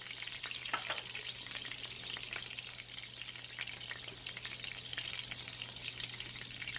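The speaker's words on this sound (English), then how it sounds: "We got our mushrooms and burgers over here in one pan." Mushrooms and burgers frying together in one pan, a constant close hissing sizzle with fine crackles and spits that hold steady throughout, with no voices.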